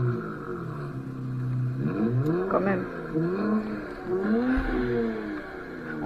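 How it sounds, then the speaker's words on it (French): A tuned car engine revs hard at full throttle, rising and falling harmonic sweeps of loud, close revving, with someone speaking briefly over it. "elle fait un boucan la bagnole. Maintenant on va la mettre... On va la mettre en full."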